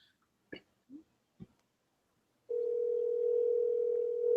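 A steady telephone tone sounds on the line during a phone call, holding unbroken for about two seconds after a few soft mouth noises and brief quiet.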